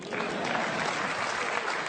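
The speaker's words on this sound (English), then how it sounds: "Can I have some applause?" A TEDx audience in Maastricht claps together in a brief, even wave of applause, thick and sustained across the whole moment with no voices standing out.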